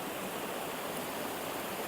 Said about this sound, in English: We've got this super powerful waterfall, which is very noisy,